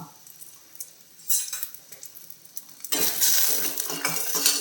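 Garlic, tamarind and dried chillies roast in a pan, starting with sparse metal clinks and scrapes of a utensil, then a louder continuous sizzle and stirring that fills the last part, close by and without talk.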